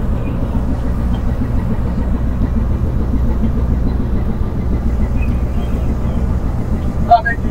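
A ship's engine runs at dead slow, a loud, steady low rumble that stays constant throughout.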